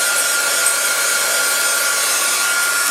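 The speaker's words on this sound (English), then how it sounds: "Then I take my heat gun and" Heat gun blowing hot air to shrink plastic wrap around a bar of cold process soap, a steady, close, loud rushing hiss that holds constant throughout without any talking.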